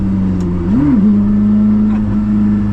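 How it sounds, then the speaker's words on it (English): A Koenigsegg CC850 engine held at a steady loud drone, briefly blipped upward in pitch and then settling back to a constant, close, heavy hum. "Try to rev it too"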